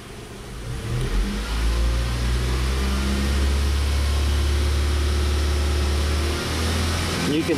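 A car engine revs up and holds at raised RPM during a lean-condition fault diagnosis, suspected vacuum air leak, a steady loud mechanical drone with no speech.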